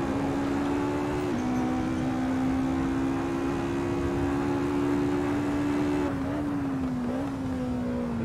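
A race car engine in a sim racing game holds a steady high drone, then drops in pitch and rises again as the throttle is eased and reapplied, loud and continuous with no talk.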